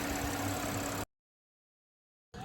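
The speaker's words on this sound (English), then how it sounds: "And again, it is not that loud at idle." A 2013 Audi Q7 with 127,000 miles idles with a steady, even hum for about a second, cuts to silence, then returns briefly at the end.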